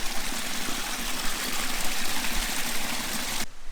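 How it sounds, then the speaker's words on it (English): Water rushing steadily at Erin Ijesha's Olumirin waterfall in Osun State, a loud, continuous broadband flow heard up close that cuts off abruptly near the end. "This is water from the waterfall, right?"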